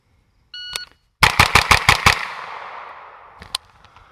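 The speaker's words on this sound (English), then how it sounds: "I'm going to put 6 rounds into the A zone as fast as I can." A Colt 6450 9mm submachine gun fires six rapid shots in a tight, evenly spaced burst, loud and close outdoors, followed by a long ringing decay; an electronic timer beep precedes it and a single metallic clink follows.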